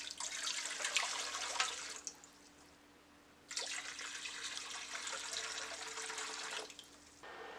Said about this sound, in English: I am also adding 6 cups of water